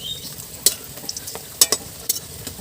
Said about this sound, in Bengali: কচুগুলো খুব কড়া করে ভাজার দরকার নেই, হালকা হালকা একটু ভেজে নিলেই হবে।